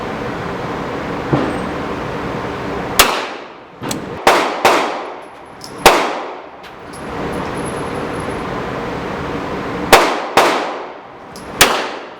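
A Smith & Wesson .44 Special revolver fires Hornady bullets from unprepped cases at a target range, with seven loud sharp reports at uneven intervals, each ringing off with a decaying echo.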